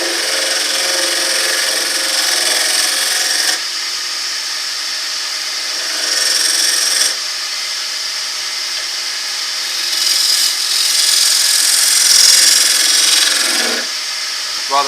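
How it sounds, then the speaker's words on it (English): A skew chisel flattens the bottom of a wooden bowl spinning on a lathe, giving a loud, steady hissing scrape that shifts in tone across several passes. "very carefully you can take the skew chisel to flatten off the bottom"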